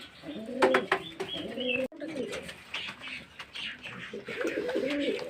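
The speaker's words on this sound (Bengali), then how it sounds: "এটা পায়রা।" Domestic pigeons coo nearby after being bathed, several low rolling coos repeating in short phrases, with a sharp handling thump midway and a person speaking quietly alongside.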